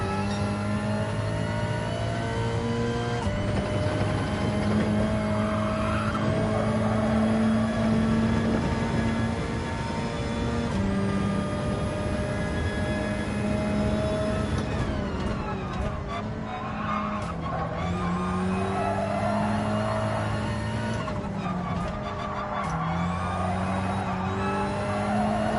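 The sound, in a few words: race car engine revving, video game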